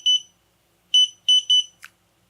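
A drone flight controller's buzzer in Betaflight chirps in a short pattern: one tone burst, a pause, then three quick beeps and a brief click, loud and close with no talking.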